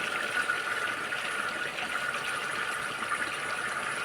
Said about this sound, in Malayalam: അടിയിൽ കിടക്കുന്ന വേസ്റ്റുകളാണ് ഈ പൈപ്പിൽ കൂടെ തള്ളി പുറത്തേക്ക് വന്നുകൊണ്ടിരിക്കുന്നത്